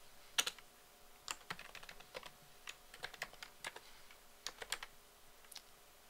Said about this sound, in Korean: 그럼 다시 타이핑